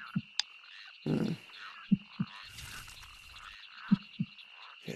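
A frog in a video game croaks repeatedly in short, low, evenly spaced pulses, clear and close against a quiet ambient background with a steady high tone, and no talk.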